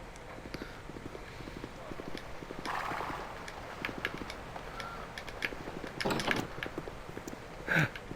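Horse hooves clip-clop in a steady, quiet walking rhythm in the role-playing game Baldur's Gate II, with louder thuds and a few clatters near the end over ambient game sound.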